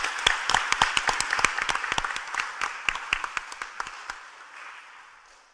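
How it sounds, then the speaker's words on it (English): Light applause at a commission meeting, a small group's distinct individual claps fading out after about four seconds. "So please give them all a round of applause for the beautiful displays"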